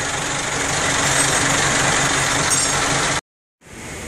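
A truck engine runs steadily with a loud, broadband rumble, running to build compressed air for the brakes, then cuts to near silence for a moment before the noise resumes.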